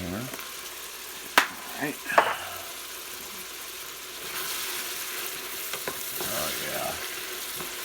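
Pasta fagioli base frying in a pot with thyme added, a low steady sizzle with a few sharp clinks and scrapes of stirring, with brief speech over it.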